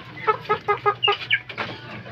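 Gamecock stags clucking while being fed: a quick run of close, rhythmic clucks and short chirpy calls, loud and clear with no talk.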